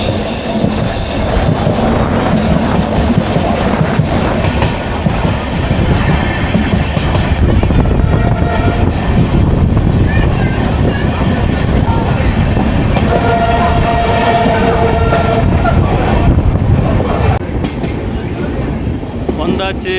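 A train rumbles loudly and continuously across the new Pamban Bridge over the sea in India, wheels clattering and squealing on the rails, with a hollow metallic roar throughout.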